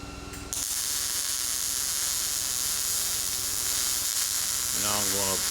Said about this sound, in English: He's welding that drive shaft, 4-inch piece of drive shaft to the bottom of that plate